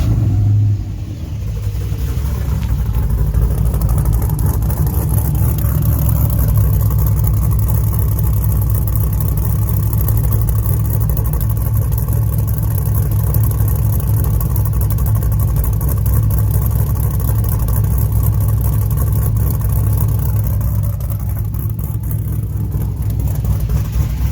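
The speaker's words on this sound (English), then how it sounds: "Let's do a little startup." A K20 truck with a swapped 5.3 LS V8 idles in the cold after a brief start, a steady low rumble that holds even and loud from start to finish.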